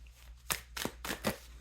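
Tarot cards being shuffled during a reading, heard as four quick, separate riffling bursts close to the mic, each brief and papery, over a faint low hum.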